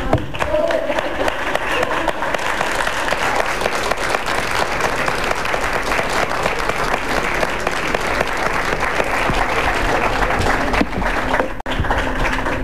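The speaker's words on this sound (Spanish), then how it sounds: "Comúnmente cuando anuncio yo esto, la gente aplaude." A 1997 television studio audience breaks into loud, sustained applause, a dense wall of clapping that holds steady for over ten seconds before briefly dropping out near the end.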